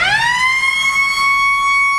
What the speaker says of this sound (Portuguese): Funciona a sirene?